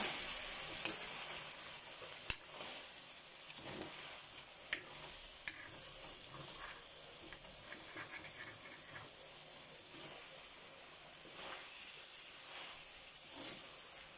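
Chicken curry meat sizzles and fries steadily in a pan while a utensil stirs it, scraping now and then to keep the meat from sticking, a continuous close hiss with occasional sharp clinks.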